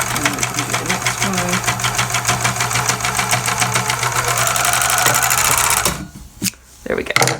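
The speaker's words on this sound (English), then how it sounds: "Put it under the presser foot, and the edge of the serger knife will clean that up." A serger trims and stitches the edge of doll-sized raglan shirt fabric with a fast, rhythmic mechanical whir, stopping near the end, followed by a few light handling clicks; a person talks over the machine.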